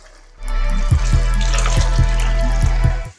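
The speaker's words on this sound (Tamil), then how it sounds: "1க்கு 2 தண்ணி ஊற்றணும்." Water poured into a pot of vegetable biryani, a steady close splashing stream with several small clinks of the vessel, running for about three seconds before tapering off.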